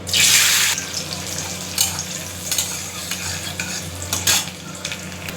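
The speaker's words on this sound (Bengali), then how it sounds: "ফোড়নটা দিয়ে দিচ্ছি লঙ্কার কালো জিরা, বাদামটা দিয়ে দিচ্ছি" Chilli, black cumin and peanuts tempering in hot oil while making fried red amaranth greens, with a loud burst of sizzle at first that settles into steady frying under occasional stirring clatter.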